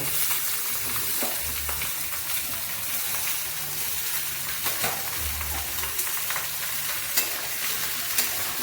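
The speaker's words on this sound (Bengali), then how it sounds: "এটার উপরে কাঁচা টমেটো আর কাঁচা লঙ্কাটা ছেড়ে দিব ছেড়ে দিয়ে একটু হালকা নেড়ে নেব" Raw tomato and green chili are stirred in a hot frying pan for a sour fish dish, giving a loud, continuous crackling sizzle with intermittent scraping and stirring strokes and a few low thuds.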